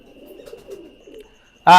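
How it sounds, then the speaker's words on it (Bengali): Pigeons kept as a breeder pair for flying give soft, low cooing, a close, gentle burbling for about a second before a sudden loud burst at the end. "এইখানে আর এক পেয়ার কবুতর দেখেন মাশাল্লাহ, সাকি গ্রুপের কবুতর"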